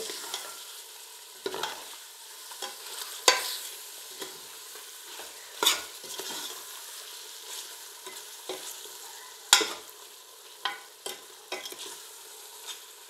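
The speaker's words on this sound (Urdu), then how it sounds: "یہ سب شامل کر لینے کے بعد ہم پھر ان مسالوں کے ساتھ بھی اس کو کچھ دیر بھونیں گے" Spinach mutton with coriander and spices frying in a pot, a low continuous sizzle broken by irregular scrapes and knocks of a spoon stirring over several seconds.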